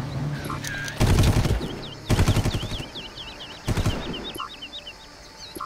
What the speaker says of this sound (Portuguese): eles estão atirando pro nada